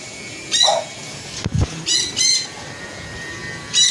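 Racing pigeons in a loft give several short squawks and calls at separate moments, with a quick rustle of wings in the middle; the sounds are close and clear against a quiet background.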